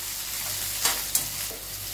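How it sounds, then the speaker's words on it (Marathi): Large-cut okra stir-fried with green chillies in a pan over high heat, a soft continuous sizzle with two brief sharp scrapes of stirring. "तर भेंडी चांगली परतून घेऊ"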